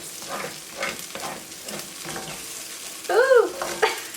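An egg fries in a pan for Pad See Ew with its yolk broken, giving a soft, steady sizzle with scraping stirs and a brief squeak near the end, no voices.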